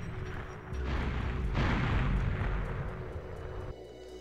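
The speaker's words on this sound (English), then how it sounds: "We'll grenade launch our way down in here." Grenade launcher blasts in GoldenEye 007 on the Nintendo 64, a loud low rumbling boom swelling mid-clip and rolling on for a couple of seconds before cutting off, with no one talking.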